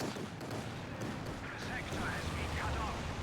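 Strafing-run gunfire in a World War II video game match, a dense, continuous rattle of shots and impacts heard under excited commentary.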